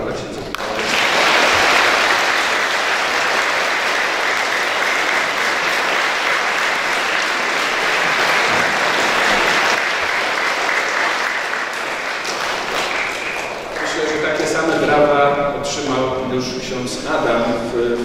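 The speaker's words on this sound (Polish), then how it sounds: "że jeszcze raz brawa dla księdza." Congregation at a First Communion celebration in Bielefeld applauds the priest with long, loud, steady clapping that fades near the end as a voice begins speaking.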